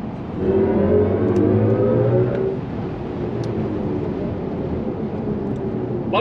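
An electric BMW i5 M60 car pulls away hard from a start, a rising whine and whir that swells quickly, holds, then eases into a steadier hum, heard from inside the cabin.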